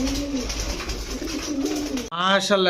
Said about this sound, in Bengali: রিয়াদ ভাই ভাই কবুতরটা চিনা লাগে ভাই